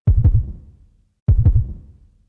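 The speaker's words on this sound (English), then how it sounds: "For a moment, he thought it was his own heartbeat." Two quick, heavy lub-dub heartbeats from the visual novel Root Double, booming and close, a little over a second apart, standing alone without talk.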